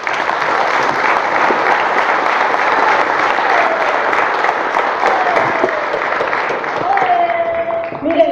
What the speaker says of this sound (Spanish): Los tenemos aquí en el presidio y que para cuales pido un fuerte aplauso.